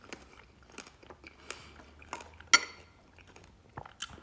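Someone chews crunchy Nature's Cereal of pomegranate seeds and blueberries, close-up crisp bites and crunches in an irregular rhythm, with light clinks of a spoon or bowl.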